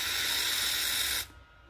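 Cleaner sprayed onto the wiring of a 2014 Suzuki Intruder 125 motorcycle's handlebar light switch, a steady close hiss of an aerosol burst lasting just over a second before it cuts off.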